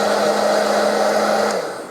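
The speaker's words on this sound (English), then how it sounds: "We'll give it a little blast with the hairdryer" A hair dryer blasts steadily up close to dry a water-slide decal on a scale model, a loud continuous whoosh with a motor hum that winds down at the end.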